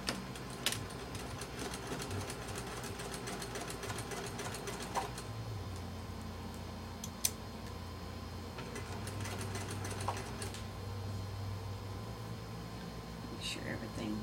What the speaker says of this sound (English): So now we're going to sew